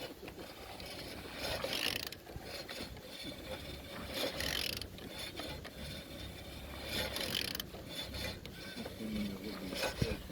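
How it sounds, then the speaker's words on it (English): Repeated ratcheting and grinding as a 9J45 (F9Q872) car engine with its gearbox removed is turned over by hand, a steady mechanical churn in cycles of about two to three seconds, close and continuous. "Turning the engine 9J45."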